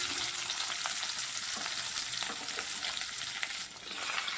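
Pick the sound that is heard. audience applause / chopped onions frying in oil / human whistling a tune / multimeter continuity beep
chopped onions frying in oil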